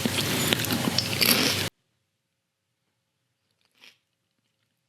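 Crunchy chewing of a hot dog topped with crispy grasshoppers, heard close and loud in a dense burst that cuts off to near silence, then one brief faint rustle.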